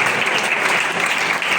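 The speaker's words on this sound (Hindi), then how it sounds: "जोरदार ताली" Loud, sustained applause from a church congregation, dense and steady throughout with no voices standing out.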